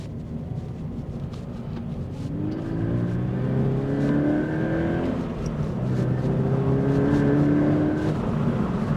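A Toyota GT86 driving hard, its engine droning steadily and then revving up through rising pitches several times, close and fairly loud, with no one talking.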